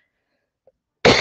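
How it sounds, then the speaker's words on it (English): A single sharp, close cough from a person indoors, loud and abrupt after near silence. "excuse me, I am still coughing."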